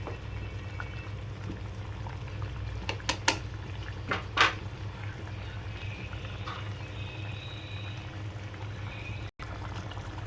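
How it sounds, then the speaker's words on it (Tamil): Fish curry bubbles in a pot, a soft, continuous simmer with a few brief clinks and pops near the middle, quiet and close with no talking. "கொதிய வச்சு பாருங்கள்"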